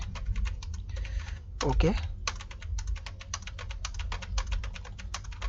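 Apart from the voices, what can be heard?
typing on a computer keyboard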